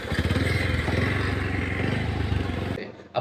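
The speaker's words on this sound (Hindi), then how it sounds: "बहुत स्लो स्लो बाइक चलानी पड़ रही है" A motorcycle rides slowly along a winding, dangerous mountain road near Mussoorie, its engine a close, steady low throb with light rattles before it abruptly cuts away near the end.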